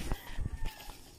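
Chickens on a rural farm in the Bicol countryside, clucking in a few short bursts close by, with people talking faintly in the background.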